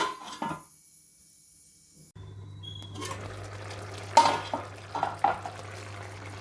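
A spoon stirs a tomato, potato and brinjal curry in a pan on a low flame, giving a few scattered clinks and scrapes against the pan over a low steady hum.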